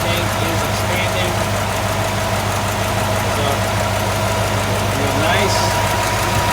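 A 1965 Ford Ranchero engine idles steadily after its first start since a valve cover and fuel line job, a close, even mechanical drone with a faint ticking rhythm and no break.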